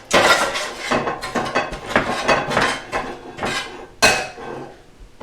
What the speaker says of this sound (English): And I'll just scrape them right out of the pan.